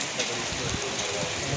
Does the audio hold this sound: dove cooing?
no